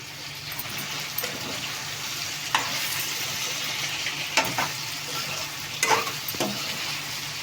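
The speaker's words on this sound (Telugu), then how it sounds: "నీట్గా తిప్పుకోవాలి కలిసేటట్టు" A spoon stirs eggplant, potato and drumstick curry with ginger-garlic paste in a hot pan, a steady close sizzle of frying broken by scraping strokes and a few sharper clinks against the pan.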